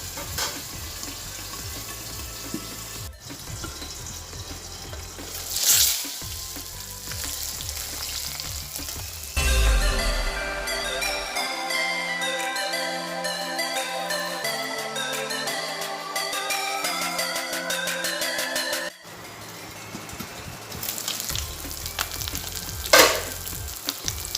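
Borali fish frying crisp in a covered pan, a steady sizzle that runs throughout, with background music swelling over the middle stretch.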